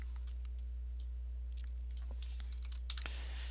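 Typing on a computer keyboard while entering a spreadsheet formula, light clicking keystrokes in a quiet room over a steady low hum, ending in a slightly louder flurry of taps.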